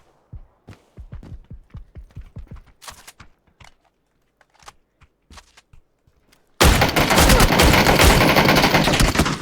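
Gunfire in PUBG: first a string of separate, sharp shots spaced irregularly with quiet gaps, then a sudden loud, continuous burst of automatic fire that hammers on steadily to the end.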